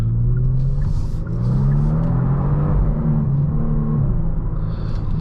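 A Genesis G70 3.3T sedan with a twin-turbo 3.3-litre V6 pulls away, its engine note rising and shifting through a steady, close, moderately loud drone without talk.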